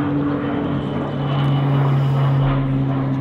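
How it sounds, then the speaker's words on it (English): Airplanes flying overhead outdoors among trees, a steady propeller drone with a sustained low hum that swells slightly as it passes, fairly loud and continuous with no voices. "there's so many planes"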